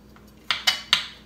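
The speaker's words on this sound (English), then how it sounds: "Chop up this garlic." Three sharp, bright knocks of a kitchen knife chopping garlic on a board land about a quarter second apart, close and fairly loud against a quiet background.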